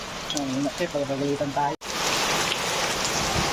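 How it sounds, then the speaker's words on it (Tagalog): Steady, dense rain hiss fills the scene, with a voice speaking briefly at the start before the downpour continues alone. "umambon na nga siya ng malakas. Ay ulan na pala yan."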